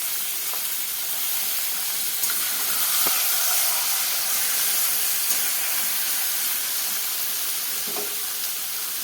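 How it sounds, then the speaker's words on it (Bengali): Marinated chicken sizzles loudly in a hot pan as it is sautéed, a constant close frying hiss with occasional sharp pops and scraping stirs, no voices. "মাখানো মাংসটাকে দিয়ে দিল, দেওয়ার পর এবার ভালো করে কষাতে হবে।"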